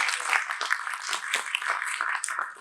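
Hands clap in light, scattered bursts, quiet and somewhat distant, continuing briefly without voices.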